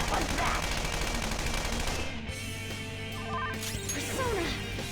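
Gun attack in Persona 5 Royal: a dense, continuous barrage of game combat effects with rapid shots and crashes over layered background music, steady and loud with no talking.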